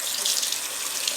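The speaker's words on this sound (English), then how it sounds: "Rinse your knife in water, please," Tap water runs steadily from a kitchen faucet as a knife is rinsed after cutting raw chicken, a close, continuous hiss with no talking.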